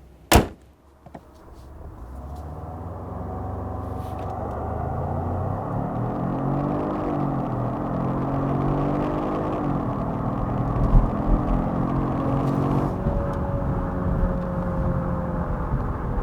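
A Genesis G80 with the 2.5-liter turbo engine, eight-speed automatic and all-wheel drive, accelerating hard from a standstill; a door-like thump opens, then a steady rising engine drone with climbing tones and a gear shift near the end, heard from inside the cabin.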